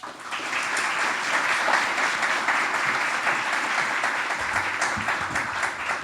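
A crowd at an awards ceremony breaks into steady, sustained applause, dense clapping filling the room at an even volume for several seconds.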